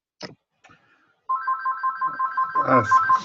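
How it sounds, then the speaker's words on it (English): A telephone rings in the background, a steady pulsing electronic trill that starts partway through and repeats quickly, with a voice briefly talking over its final moments. "sorry for the phone in the background"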